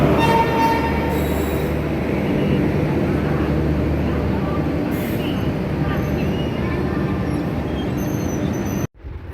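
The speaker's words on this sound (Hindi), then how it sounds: "हमारी ट्रेन आ गई है।" A train pulls into a station platform with loud, steady rumbling of rail cars and high metallic wheel squeals that run for several seconds before cutting off abruptly. Faint voices may be mixed in.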